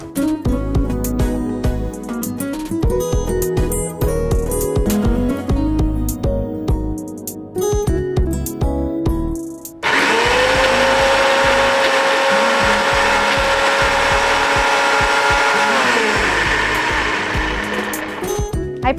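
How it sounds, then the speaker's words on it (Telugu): Dry fruits and gond rava ground in an electric mixer grinder: a loud, steady motor whir with a rising pitched hum that keeps running after a sharper rattling stretch, close and continuous, with no talk. "అది మిక్సీ పట్టేస్తాం"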